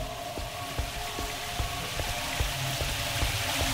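Flowing water in a Source engine mod map video game gives a constant hissing, splashing wash with small drip-like ticks scattered through it, steady and unbroken.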